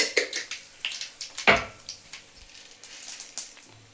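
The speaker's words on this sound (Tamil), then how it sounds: "இப்போ எண்ணெய் காஞ்சிட்ருக்கு எண்ணெய் காஞ்சிச்சு கொஞ்சமாக கடுகு போட்டுக்கலாம்" Mustard seeds tossed into heated oil in a home kitchen pop and splutter in scattered, quick crackles of varying loudness, one louder snap standing out, with no speech.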